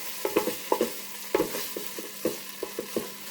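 Ginger, garlic and curry paste toast in a pan, with soft sizzling under a series of quick spoon stirs and scrapes, close and fairly quiet.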